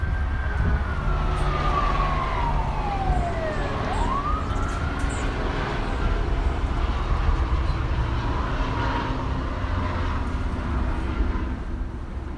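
A siren wails and sweeps down in pitch, then rises again, over the steady roar of city traffic in Los Angeles.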